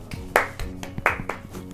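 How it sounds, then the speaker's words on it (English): A few students clap sparsely after a music appreciation singing exercise, a handful of separate, uneven claps close by with gaps between them. "Give yourselves a round of applause."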